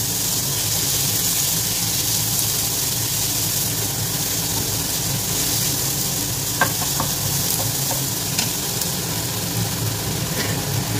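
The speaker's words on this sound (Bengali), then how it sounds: "দিয়ে ভালোভাবে আদা রসুনটাকে আমি ভালোভাবে পেঁয়াজের সাথে ফ্রাই করে নেব।" Chopped onion, garlic, ginger and potato fry in hot oil for a paneer biryani. The sizzle is a close, steady hiss that runs throughout, with a few faint stirring clicks partway through.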